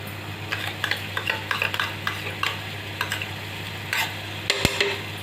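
A spoon stirs mango juice into sheera in a pan over low heat, giving soft irregular scraping and clinking strokes with a faint sizzle underneath, close and moderately loud with no voices.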